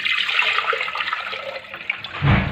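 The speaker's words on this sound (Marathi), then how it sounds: "आता गॅसवरती कुकर ठेवून मी त्यामध्ये पाणी टाकून घेते" Water pours steadily into a metal pressure cooker on a gas stove, a rushing splash that deepens near the end as it fills, with no talking.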